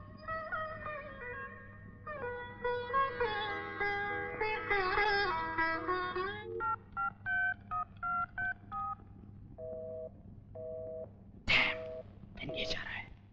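Telephone keypad tones beep one by one in a steady run of short, evenly spaced notes, following a stretch of music with a faint voice underneath.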